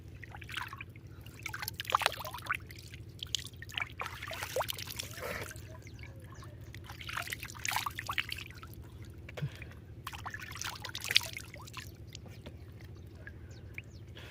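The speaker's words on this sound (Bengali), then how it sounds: "তো বহুত গরম লেগে গেছে, মুখটা অল্প ধুয়ে নেই।" Water trickling and splashing softly as someone washes their face outdoors on a hot day near kash flowers, faint, irregular and continuous under light background noise.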